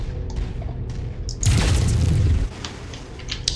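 A heavy boom erupts as a base is destroyed in the Heavy Metal Warfare video game, a deep, loud blast lasting about a second over quieter background game sounds.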